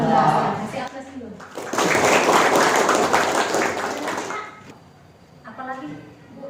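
A classroom of students claps for a classmate in a steady burst of applause that lasts a couple of seconds, with a teacher's voice heard before and after it.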